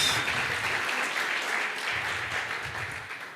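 Audience in a church applauds steadily, a dense even wash of many hands clapping at moderate distance that holds for a few seconds and slowly eases off, with no voices standing out.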